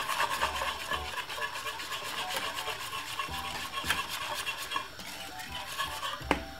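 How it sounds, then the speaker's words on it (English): Peanut porridge with salt and grated nutmeg stirred in a pot, a quiet repeated scraping and swishing of a spoon against the pot with occasional knocks, close and steady, no talking. "keep stirring it until it gets thick"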